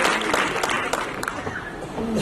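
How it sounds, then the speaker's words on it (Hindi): A talk show audience claps for actor Annu Kapoor, producing a thick, continuous round of applause with a few sharper claps standing out and faint voices mixed in. "एक बार तालियां बजा दीजिए।"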